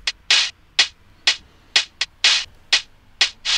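A hi-hat loop slowed to half time plays alone, about nine crisp, hissy hits in an uneven bouncing rhythm, close and moderately loud.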